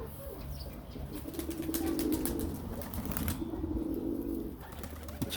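Pigeons coo in low rounded phrases close by, with soft wing flaps and rustling around them, a moderate, continuous flock sound without speech.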